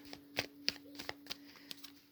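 Tarot cards riffle and tap softly in a close, quiet series of uneven clicks and flutters, with no talking.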